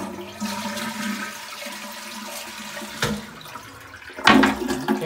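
Toilet flushing in a master bedroom bathroom: steady rushing water runs throughout, with a sharper gush near the end as the flush surges, heard close by with no talk.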